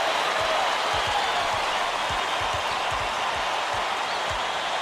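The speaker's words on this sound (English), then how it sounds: "Listen to the crowd burn." An arena crowd in College Basketball 2K8 keeps up a steady roar of cheering that fills the clip. Faint low thumps, like a ball bouncing on hardwood, pulse underneath, and no voices stand out.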